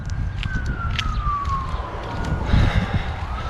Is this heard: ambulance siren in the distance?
yes